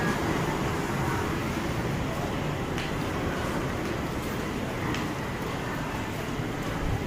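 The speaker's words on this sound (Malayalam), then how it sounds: "അപ്പം നമ്മുടെ പരശുരാമ എക്സ്പ്രസ് പോവാണ്" The Parasurama Express, bound for Mangalore, passes through a railway station as a continuous, even rumble of wheels and carriages, broad and fairly close, with a few faint clanks on top.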